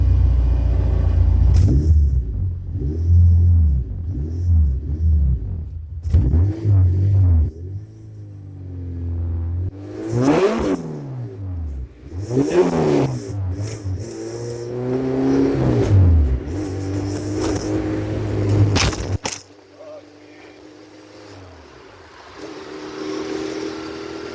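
A 1981 Honda Civic wagon with a swapped K24 engine drives over rough roads, its engine rumbling and revving up and down through several throttle pulls, loud and close, with no talking.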